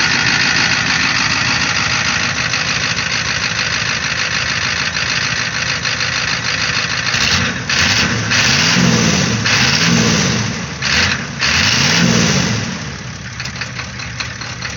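A 1986 Ford F250 4x4 with a 6.9 IDI diesel, revived after sitting seven years, runs loud and close with a rough, knocking idle that stumbles and surges briefly partway through.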